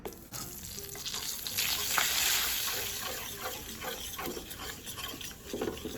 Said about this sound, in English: we're gonna dump in our flour, and as soon as we do that, we're gonna need to start whisking